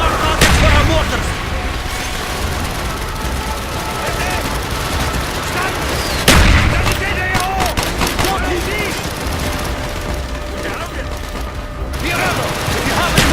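Continuous rattling gunfire and heavy mortar blasts fill a Call of Duty Black Ops battle in the Project Nova mission, with sharp booms breaking through the dense clatter and voices shouting over the combat.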